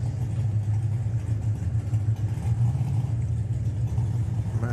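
Drag racing car engine running at Santa Pod Raceway during a nostalgia drag meet, a steady deep loud rumble held continuously throughout, heard from a moderate distance with no talking.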